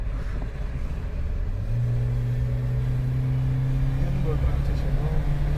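A car engine revs and climbs in pitch on a Spiti mountain drive, a loud steady drone that rises partway through and holds, heard close from inside the vehicle.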